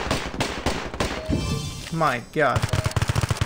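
Automatic gunfire in Standoff 2 gun game mode, rapid bursts of loud close shots, a brief pause while a man exclaims, then another fast volley.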